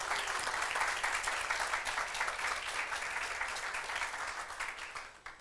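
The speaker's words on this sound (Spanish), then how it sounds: "Denle un aplauso a Cristo." A church congregation applauds together during a sermon, a dense, steady wash of clapping that holds strong before thinning out near the end.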